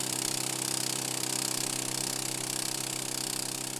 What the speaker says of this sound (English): The miners begin by drilling holes at the base of the slate